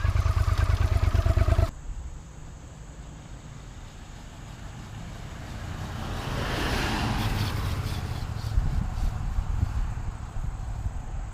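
A Suzuki SV650 motorcycle rides away and passes by after a project rebuild, with a loud close engine rumble at first, then a quieter passing whoosh that swells midway and lingers as steady road noise.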